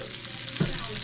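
Gnocchi searing in olive oil in a pan on medium heat, a brief steady sizzle with a soft knock partway through.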